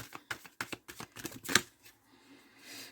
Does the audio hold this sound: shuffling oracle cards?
yes